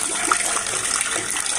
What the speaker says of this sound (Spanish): sacarle ya totalmente el agua al tinaco